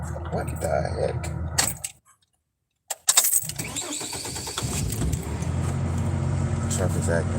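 A truck engine runs roughly under voices, then abruptly cuts out to near silence for about a second before noise and talking resume close by.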